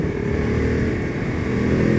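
Voge DS900X Valico motorcycle engine running in sport mode, a steady loud rumble that rises slightly toward the end, heard alone throughout.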